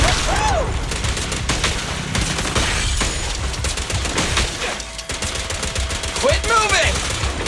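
Rapid gunfire from the video game Zenless Zone Zero, a dense, loud rattle of shots running throughout with brief chiming effects mixed in and no talking.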